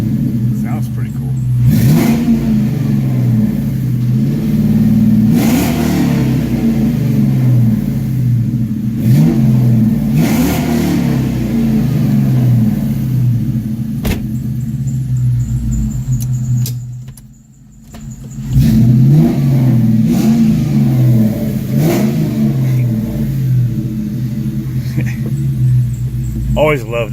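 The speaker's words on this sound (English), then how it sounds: "Always love the sound of a Mustang with Flowmasters. Even if it's a stock 2-valve" Stock two-valve Ford Mustang V8 breathing through Flowmaster exhaust, a loud close rumble with repeated blips of revving, a brief dip to quiet near the middle, then the throaty idle and revs return.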